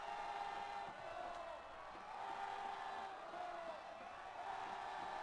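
A large crowd cheers and roars continuously at a high school football bi-district playoff game, a dense sustained wall of voices with swells of whooping, steady and loud throughout.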